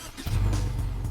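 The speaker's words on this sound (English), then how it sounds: "Subaru uses a different kind of engine called a boxer." A 2017 Subaru Impreza Sport's boxer engine, rated at 152 horsepower, revs up sharply after a brief quiet moment and then holds a steady, throaty drone close by.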